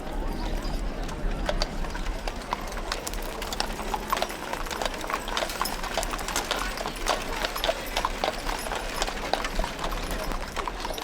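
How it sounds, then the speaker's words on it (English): Pair of Belgian draft horses pulling a genuine Studebaker wagon in a small-town Montana centennial parade, hooves clip-clopping steadily on pavement amid crowd murmur and outdoor ambience, with birds faintly audible. "a pair of Belgian horses, and a genuine Studebaker wagon"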